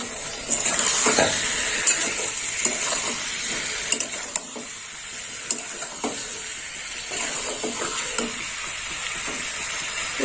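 Fried bottle gourd is stirred in a hot wok, giving a continuous loud sizzle and hiss with scattered scrapes and clinks of the spatula against the pan throughout.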